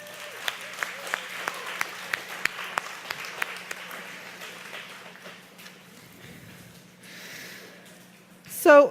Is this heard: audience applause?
yes